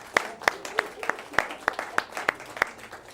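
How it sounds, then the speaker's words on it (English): A community audience honoring its library gives a thin round of applause, about nine distinct, crisp claps in a steady rhythm, close and fairly loud against a quiet room. "So we should give a round of applause to the library for all the work they do for us in the community."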